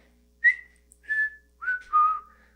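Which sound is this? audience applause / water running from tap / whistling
whistling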